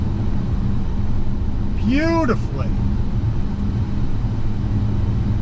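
A 2024 Hyundai Santa Cruz Night AWD pickup drives down the road, its wet dual-clutch transmission shifting, giving a steady road and engine rumble with a brief rising-and-falling whine, while a person talks over it.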